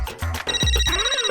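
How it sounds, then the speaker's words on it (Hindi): A phone rings with an incoming video call in an office, a bright electronic ringtone sounding close and loud, steady tones with a rising and falling sweep, alone without talk. "He's calling. Video call."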